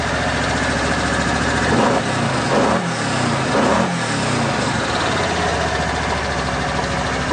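A fuel-injected 2013 Kawasaki Teryx4 LE side-by-side engine runs steadily at close range, with a couple of brief surges in its note early on before settling into a smooth, even idle.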